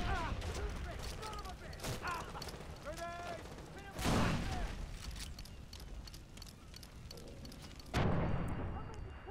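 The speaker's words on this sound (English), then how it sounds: "I can cook nades too, you know" Grenade blasts in the shooter game Far Cry 3, three loud booming explosions spaced about four seconds apart, each with a rumbling tail, while someone talks over the gameplay.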